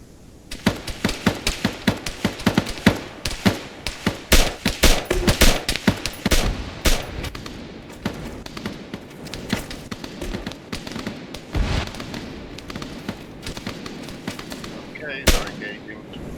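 Rapid bursts of video game gunfire rattle through a snowy firefight, with dense overlapping shots early on that thin into sporadic cracks and one sharp late blast, all fairly loud and close.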